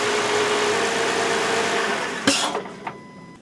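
A car engine idles steadily after being jump-started with a LokiThor ApartX jump starter, a close, even hum that drops away near the end as clicks and a couple of knocks follow.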